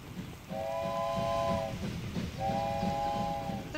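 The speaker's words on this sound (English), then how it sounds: "The train." A train in the video game Wobbly Life sounds two steady horn-like whistle blasts, each about a second long, over a constant rumbling rail background.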